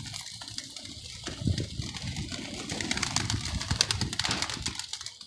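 A caught pigeon makes soft cooing and fluttering sounds up close, mixed with a watery, rushing background noise that grows busier toward the end.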